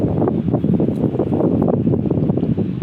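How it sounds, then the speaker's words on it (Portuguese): Wind gusts steadily outdoors on the front steps of a house, a loud, continuous rushing buffet against the microphone with no pauses. "Olha o ventinho que tá aqui, que delícia."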